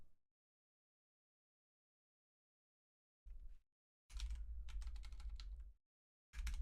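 Short bursts of typing on a computer keyboard, a quick first flurry then a longer run of close, rapid clicks, with silence between and another burst at the end.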